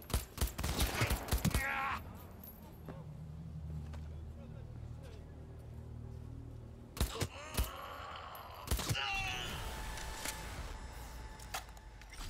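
Gunfire in Cyberpunk 2077 during an attack on Hanako Arasaka's convoy, with sharp bursts of rapid shots at the start, scattered single loud cracks later and vehicle rumble between, under someone talking.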